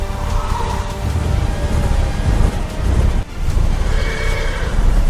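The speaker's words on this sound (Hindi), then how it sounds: "उनके घोड़े भी डर के मारे कांपते थे" Frightened horses neigh and whinny loudly and repeatedly over a rough, continuous rumble of commotion, with shrill whinnies rising at the start and again near the end.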